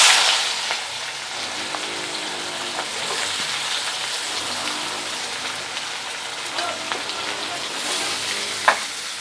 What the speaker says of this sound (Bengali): এবার দিয়ে দেবো কেটে রাখা পেঁয়াজটা।